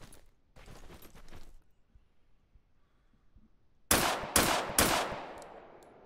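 Gunfire from a gun in the shooter game Deadside: after a quiet stretch with faint earlier shots, three loud sharp cracks ring out in quick succession, each trailing off with a hollow echo.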